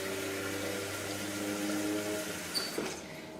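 Water streams steadily into an Instant Pot over black beans, a continuous rushing pour that tapers off near the end with a couple of small clinks.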